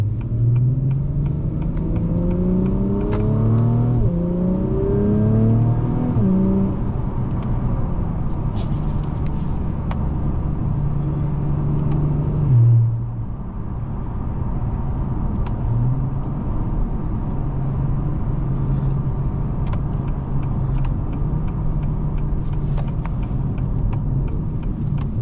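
A 2023 Acura TLX Type S drives on the road with a steady, loud engine rumble and tire drone, rising through several upshifts early on, then easing and settling into a smooth cruise.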